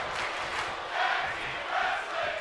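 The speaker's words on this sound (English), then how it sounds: "Crowd loving it." A wrestling arena crowd roars and cheers after a near pinfall at a live event, a dense, continuous wash of many voices that swells louder twice.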